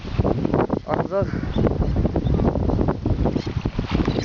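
Wind gusts roar steadily by the sea on a fishing outing, a loud broadband rush with people talking over it throughout.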